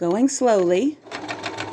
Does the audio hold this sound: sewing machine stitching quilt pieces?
yes